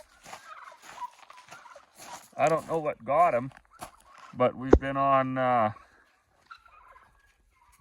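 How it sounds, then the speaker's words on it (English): Farm turkeys gobble loudly and close in several rattling bursts, one bird limping from a recent fight, while someone talks nearby between the calls. "There's some turkeys."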